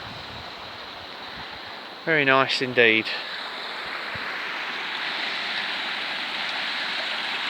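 A river flows beside a countryside walk near Cretingham and Brandeston, making a steady, soft broadband rush that continues throughout, briefly interrupted by someone speaking.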